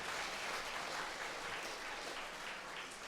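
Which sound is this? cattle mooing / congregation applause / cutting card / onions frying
congregation applause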